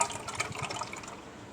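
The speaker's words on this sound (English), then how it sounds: "I'm going to go ahead with the other can and pour it all inside." Carnation evaporated milk pouring from a can into a pot for homemade banana pudding, a brief close liquid glug and splash that trails off quickly.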